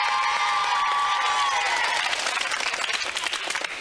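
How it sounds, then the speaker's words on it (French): A studio audience on a French children's television show applauds the prizes and contestants, a dense, steady wash of clapping and cheering that runs for a few seconds and thins slightly toward the end. "On peut applaudir les cadeaux et les candidats."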